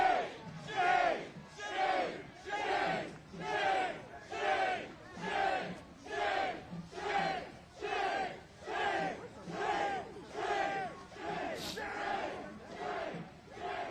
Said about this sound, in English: now you're hearing the chants of shame